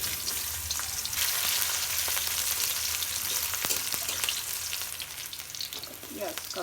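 Onion sizzles in hot oil in a kadai-style wok while a small-fish chorchori is being cooked, giving a steady, close, continuous frying hiss with occasional sharper crackles throughout.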